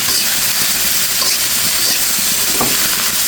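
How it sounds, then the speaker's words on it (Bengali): Okra and potatoes with turmeric and salt sizzle steadily in a pan while being stirred, a loud continuous hiss with faint scraping ticks throughout and no talking. "হলুদ লবণ দিয়ে খুব সুন্দর করে নেড়ে চেড়ে নিচ্ছি"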